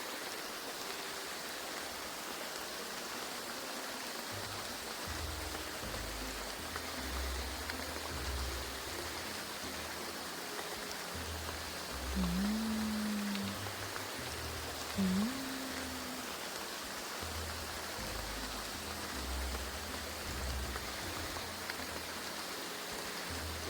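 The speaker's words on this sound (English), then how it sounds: "Oh, the rain was loud." Steady rain sound effect in the video game Graveyard Keeper, a dense even hiss of falling water continuing throughout with no talk.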